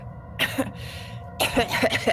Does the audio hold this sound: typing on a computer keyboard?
no